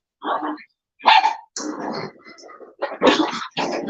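A hyper puppy barks and yips indoors in several sharp, close bursts separated by short pauses.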